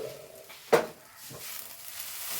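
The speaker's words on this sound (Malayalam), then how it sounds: "ഇനി ഇതൊന്ന് ഇളക്കി നോക്കാം കേട്ടോ." Spoon stirring chopped colocasia leaf thoran in a pan, with one sharp scrape or knock against the pan and a couple of softer stirring strokes over a faint cooking hiss.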